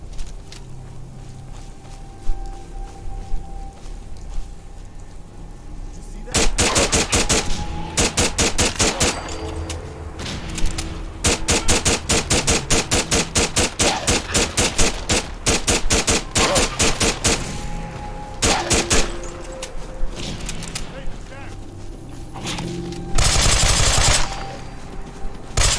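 Bursts of automatic gunfire from the video game Fallout, rapid machine-gun volleys starting after a quiet stretch, with several sustained strings of shots and a final loud burst near the end, no talking.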